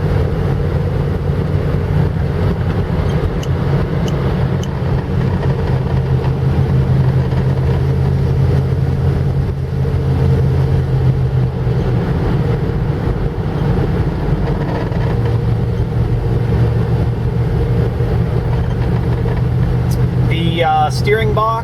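Cabin of a 1977 Dodge Ramcharger SE 4WD with a 440 big-block V8, heard from inside while driving: a steady low engine drone and road rumble runs throughout at moderate level, with a brief rattle near the end.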